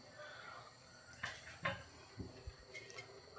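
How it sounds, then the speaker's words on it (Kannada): A cooking pan set down on a stovetop for a dish of motte palya, heard as a few scattered light metallic knocks and clatters, fairly close, with quiet background. "ಫಸ್ಟು ಪ್ಯಾನ್ ಇಟ್ಟಿದ್ದೀನಿ."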